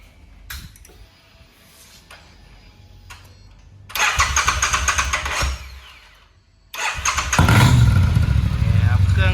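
A black 2018 Triumph Bonneville T100 motorcycle has its engine cranked and started. It catches, settles into a close, steady idle, dips briefly, then revs up loudly, with some talk around it.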